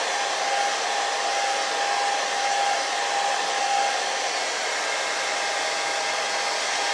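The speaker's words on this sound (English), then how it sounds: "take that hair dryer" A handheld hair dryer used while building up a puppet head blows a steady, loud whooshing roar with a faint whine, running continuously for about seven seconds with no voices.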